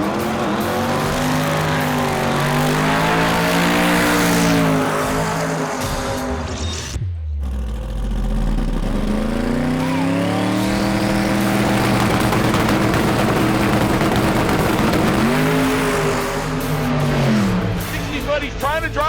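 A drag race car makes its run at a Sick Week event, engine roaring loud and close, its pitch climbing through gear changes. A sudden brief drop comes midway before the engine note rises again, with an announcer talking over it.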